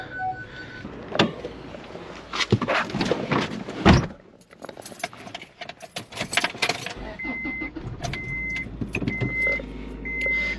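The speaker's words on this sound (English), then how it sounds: "Let's move this car" Sounds of a car being moved in a garage: keys jangle, a door clunks, then a chime repeats several times as the engine idles with a low rumble in a quiet enclosed space.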